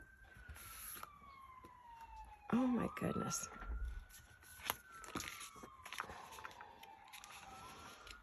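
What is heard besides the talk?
distant emergency vehicle sirens passing near hospital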